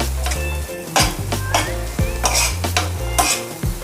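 Masala with red chilli powder and yogurt sizzling in a pan while a spoon stirs it, close and loud, with repeated metallic clinks and scrapes of the utensil against the pan, no voices.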